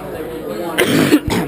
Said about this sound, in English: sorry, I'm coughing here